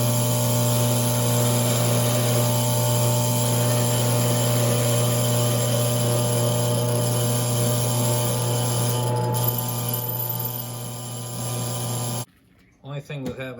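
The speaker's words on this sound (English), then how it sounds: "Only thing with having a small drill press." A small drill press boring into a Marblewood pen blank, a loud steady motor hum with continuous grinding for about twelve seconds before it cuts off abruptly, followed by brief faint handling noises.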